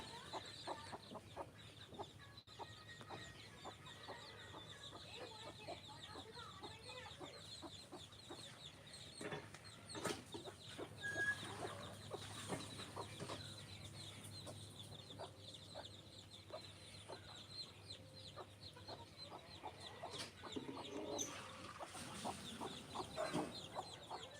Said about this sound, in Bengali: দেশি মুরগির বাচ্চাগুলো